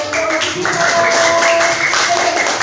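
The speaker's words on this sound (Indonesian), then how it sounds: "Terima kasih. Tepuk tangannya." Schoolchildren in a classroom clap together in a dense, steady burst of applause lasting a couple of seconds, close and fairly loud, with a few voices mixed in.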